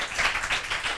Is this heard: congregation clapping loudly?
yes